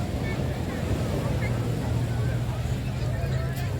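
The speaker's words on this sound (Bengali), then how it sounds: "সমুদ্রের ঢেউগুলার শব্দ শুনলেই" Sea waves roll onto the beach at Cox's Bazar at night, a loud, continuous roar of surf mixed with wind buffeting the microphone, and faint indistinct voices in the background.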